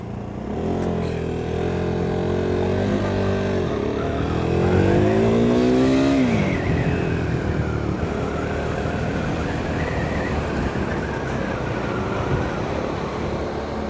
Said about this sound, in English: It's been a hot minute since the KTM stalled that badly.